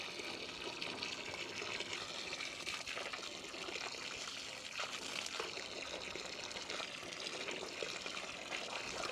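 Water pours steadily onto corn plants in a vegetable garden, a continuous close splashing trickle that holds for several seconds with no break.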